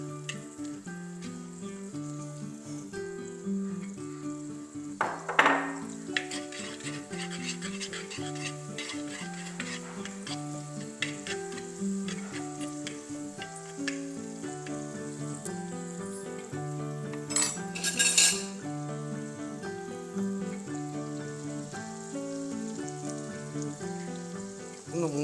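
Five garlic cloves fry in hot oil for an Onam dish, giving a steady, soft sizzle with occasional stirring scrapes throughout. The sound is fairly quiet and even, with no voices.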